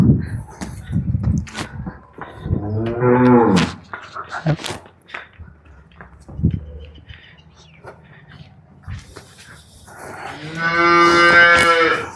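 Two long, deep cattle moos, one early and one near the end, with quieter rustling, brief voices and a few faint bird-like coos between them.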